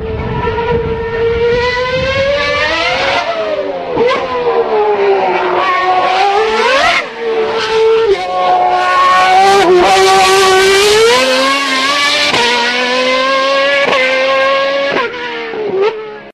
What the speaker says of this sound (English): Formula One.